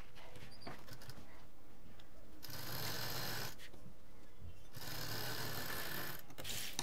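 A sewing machine runs in two sustained bursts while stitching a transparent utility bag with a zip, close and steady, with quieter pauses between the runs.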